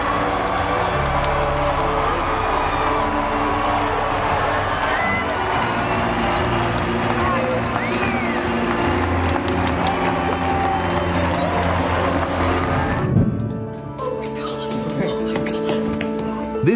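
A large crowd cheering and shouting as a soldier proposes to his girlfriend, a dense continuous roar of voices that drops off briefly near the end and then picks up again.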